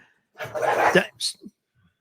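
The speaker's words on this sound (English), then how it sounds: "I had to yell at the dogs because they're fighting over a bone, rubber bone" Dogs squabbling over a rubber bone indoors let out a short burst of growling, whimpering yips, followed by a couple of brief sharper sounds, then quiet.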